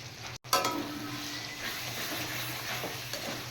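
Whipped yogurt poured into hot oil with fried spices, bursting into a sharp sizzle after a brief silence, then settling into a softer, steady frying hiss with light stirring in the pan.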